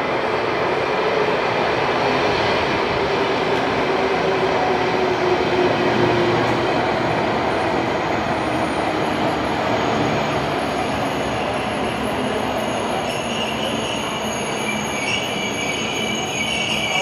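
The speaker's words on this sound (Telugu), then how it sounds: "వచ్చేసింది మనం వెళ్ళబోయే ట్రైన్." A train pulls into a station in Switzerland, its wheels squealing on the rails over a loud, continuous rumble that runs unbroken for the whole stretch.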